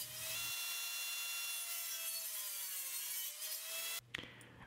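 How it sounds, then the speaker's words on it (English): Plywood being cut on a table saw in a woodworking shop: a steady, high whining blade cut through the sheet for about four seconds, then the pitch drops as the cut ends, with no talking. "I cut the plywood on my table saw."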